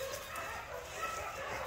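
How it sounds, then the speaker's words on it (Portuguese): Dogs at a kennel bark, yip and whimper in a busy, continuous chorus, moderately distant and fairly faint. "Olha o nível dos cães."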